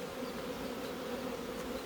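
Honeybees from a newly installed package swarm around their queen inside an opened hive, producing a continuous, close, unbroken buzzing drone.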